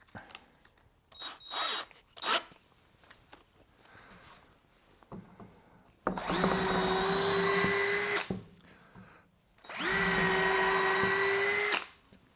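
A Bauer 20V cordless drill set on drill mode, speed 2, boring with a 5/32 bit: two steady whining runs of about two seconds each, loud and close, with light handling clatter beforehand.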